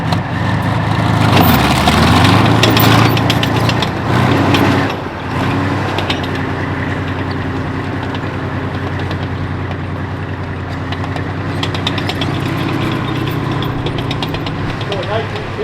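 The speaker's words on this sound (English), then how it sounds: "He's driving the T-34." A T-34-85 tank engine running close by, a loud deep rumbling idle that surges briefly early on and then settles into a steady drone, with people talking over it.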